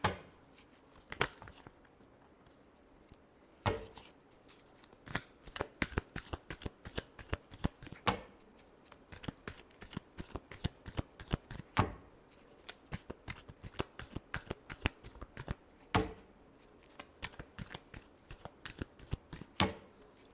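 A deck of tarot cards is shuffled close by in rapid, crisp riffling clicks and soft slaps, continuing in uneven bursts throughout at a quiet level, with no one speaking.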